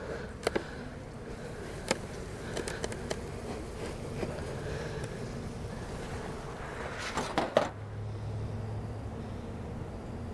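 Honey bees buzzing in an open hive during a swarm cell check, a low diffuse hum under outdoor ambience with a few faint clicks and knocks.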